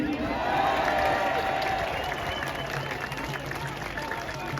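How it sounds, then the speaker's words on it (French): Crowd applause at an outdoor protest against the health pass in a Paris square, a steady wash of clapping that swells early and then thins slightly while continuing throughout. "Nous pouvons les applaudir."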